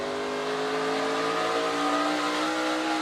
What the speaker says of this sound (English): Listen to him get on the throttle. This is the leader.